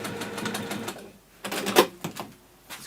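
A sewing machine stitches waxed fabric for a harness bag in short bursts, a rapid mechanical whirring for about a second, a pause, then several quick choppy runs.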